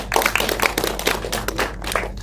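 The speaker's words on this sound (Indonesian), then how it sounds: "Tepuk tangan dulu" An audience at a press conference for an anti-drug film claps in a dense, uneven patter of many hands that runs throughout, fairly close and moderately loud.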